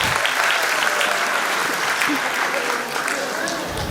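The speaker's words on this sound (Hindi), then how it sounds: "एक बार जोरदार तालियां हमारे चीफ गेस्ट के लिए।" Vigorous audience applause for the chief guest at a school annual function, a thick, unbroken burst of clapping heard at close range with faint talk underneath.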